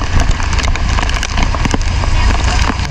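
Heavy rain pours over Hue city in Vietnam, a dense, loud, constant wash of hiss with scattered sharper spatters and taps.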